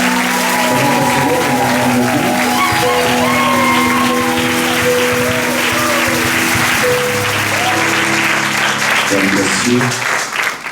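A church congregation applauds for the Lord during a worship service, sustained clapping filling the room without pause, mixed with music and voices.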